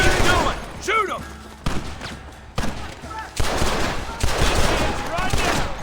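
Bursts of gunfire in the Western video game Red Dead Redemption, rapid volleys of shots crackling over several seconds while voices shout during the firefight.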